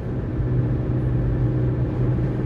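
Mini One R56 car under acceleration, with a steady low drivetrain drone and faint gearbox whine heard from inside the cabin, continuous and moderately loud with no speech.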